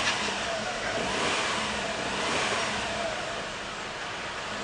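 A Great Wall X240 engine with 37,000 kilometres on it runs steadily at a wrecker's yard, a dense, continuous mechanical roar with slight swells in revs and no voices over it.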